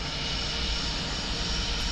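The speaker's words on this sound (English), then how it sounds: "here comes another JetBlue airplane our way" Steady broadband roar of a JetBlue airliner's engines in Microsoft Flight Simulator, a continuous even drone with no talk over it.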